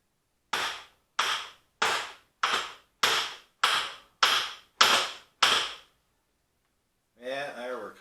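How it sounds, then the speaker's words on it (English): A brass hammer knocks on an Ellis dividing head in a workshop, nine sharp evenly spaced close raps, then a brief voice speaks. "Let's give her a little knock here with the brass hammer."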